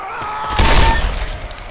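A big gun firing in a video game, a single heavy booming shot with a broad blast that swells and decays over about a second, close and loud.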